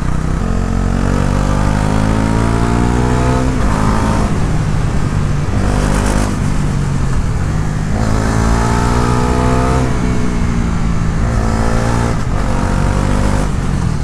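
A Bajaj Pulsar NS400z motorcycle engine revving on the road, loud and close, climbing through the rev range several times with gear shifts and wind rush between pulls.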